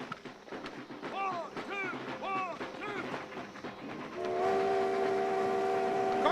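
A train's steam whistle sounds as a long, steady, loud blast following a stretch of shouted voices and rumbling rail noise.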